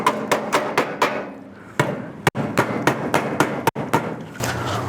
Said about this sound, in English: I'm gonna work this flange with my hammer